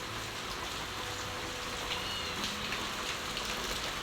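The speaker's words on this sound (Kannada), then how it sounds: "ನೋಡಿ, ಮಳೆ ಬರ್ತಾ ಉಂಟಲ್ಲ" Steady rain falls throughout, a dense, even wash of drops at night outdoors with no break or change in intensity.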